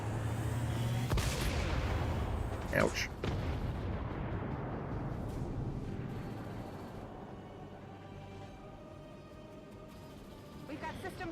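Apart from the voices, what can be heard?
big cannon firing in XCOM 2 video game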